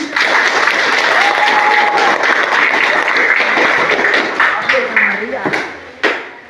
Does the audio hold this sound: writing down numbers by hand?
no